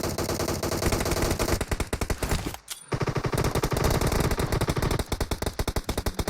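M416 and Scar-L rifles fire in a shooter video game team deathmatch: loud, rapid automatic bursts in a dense rhythmic stream, broken by one short pause before the firing resumes.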